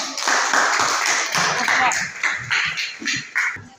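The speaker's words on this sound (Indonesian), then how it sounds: "Tepuk tangan dulu." A small group of people, likely a class or seminar audience, claps their hands in short uneven bursts nearby, fading out in spaced clusters toward the end.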